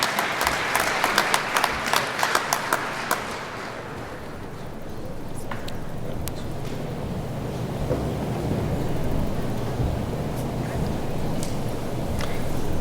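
A crowd at a state police recruit graduation ceremony claps loudly for a few seconds, then the applause fades into a steady low rumble of room noise.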